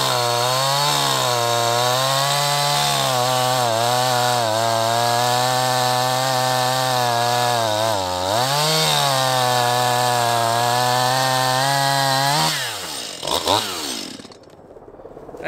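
A new Stihl gas chainsaw runs at high revs, a loud close buzzing whine held steady for about twelve seconds with a brief dip in speed midway, then throttles down to idle.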